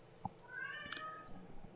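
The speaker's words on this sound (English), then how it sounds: "Apologies if you can hear a cat yowling in the background." A house cat yowls in the background during a live esports broadcast, a drawn-out wavering meow of about a second, fairly faint behind low room noise, with a brief soft thump and a small click before it.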